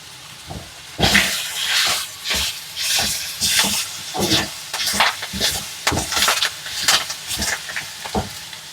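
Manathakkali greens hiss and sizzle in a hot pan with oil as they are stirred and sautéed, making steady crackling frying noise broken by repeated scraping stirs up close.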